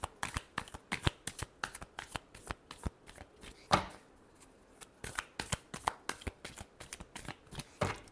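A deck of tarot cards is shuffled by hand close up, making a rapid series of crisp riffling and slapping bursts with short gaps between them, and no voice.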